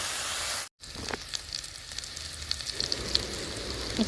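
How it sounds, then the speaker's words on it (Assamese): Fish sizzles gently in oil over low heat, a soft, continuous frying hiss with faint crackles after a short break near the start. "কম ষ্টিমত মই ধুনীয়াকৈ ভাজি থাকিম"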